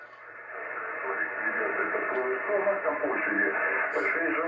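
Band noise hisses and rushes from a Yaesu FT-891 amateur radio transceiver receiver, steady and fairly loud, with faint warbling, muffled voice-like fragments drifting through the static.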